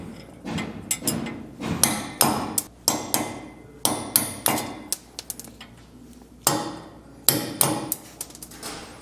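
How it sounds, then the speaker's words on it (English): Hammer striking a steel punch to drive old wheel studs out of a disc brake hub on a Coachmen Chaparral fifth wheel trailer: sharp, loud metallic blows, close up, in quick irregular bursts of two to four strikes with brief pauses between. "Now we need to punch out our old studs here. You could honestly do it with a hammer."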